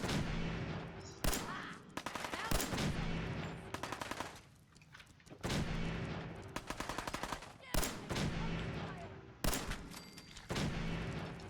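Gunfire in the video game Fallout 4: bursts of rapid loud shots repeat in clusters across the scene, dense and close, with brief gaps between volleys.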